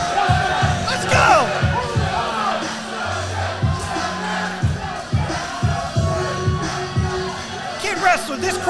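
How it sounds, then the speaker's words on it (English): A loud crowd at an indoor wrestling show cheers and roars, with shouts and whoops rising over a dense wall of noise, while a deep voice talks through it. "this crowd is going bananas for Leroy"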